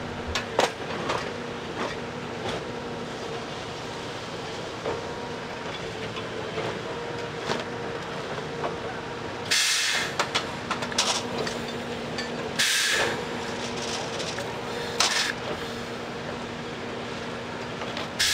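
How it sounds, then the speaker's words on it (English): Railroad track maintenance machines pull out old ties and insert new ones on a rail line between Brunswick and Portland, with a steady mechanical rumble punctuated by sharp clanks and two loud bursts of hissing air. "The mechanical John Henrys began their work, pulling out old ties"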